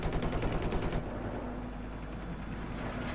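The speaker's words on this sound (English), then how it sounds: "here's a tank on tank battle" Battlefield 4 tank-on-tank battle with rapid gunfire: a loud, fast rhythmic burst for the first second, then a steady low rumble of engines and distant combat noise with no talk.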